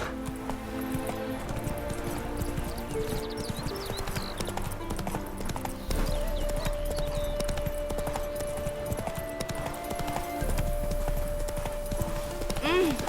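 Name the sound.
horse hooves clip-clopping while riding, from video game The Witcher 3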